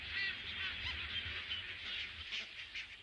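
A colony of terns calls on a coral atoll at Clipperton Island, a loud overlapping chorus of harsh, nasal honking cries that runs on without a break.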